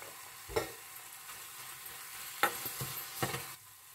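Jaggery and fresh coconut filling for steamed modak cooking in a pan, a faint steady sizzle broken by a few soft spoon scrapes and taps as it is stirred.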